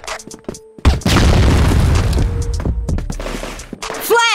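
A grenade bursts in a tactical shooter with a loud, deep boom that rolls on for several seconds, preceded by a few sharp clicks and thumps and ending with a rising whistle-like sweep.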